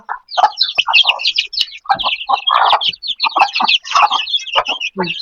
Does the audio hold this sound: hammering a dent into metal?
no